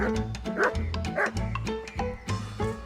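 A dog in a medieval video game gives a quick run of close, loud barks and yips against background music.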